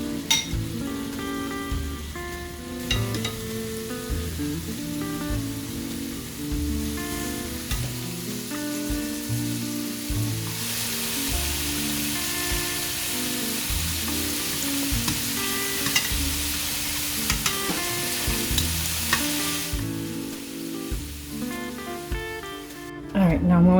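Cajun shrimp sizzle and fry in a pan, giving a steady crackling hiss throughout that swells louder through the middle, with occasional stirring clinks and a person talking over it.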